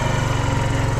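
A small motorcycle engine running with a steady, buzzy, rapid mechanical putter, loud and close for about a second, no talking over it.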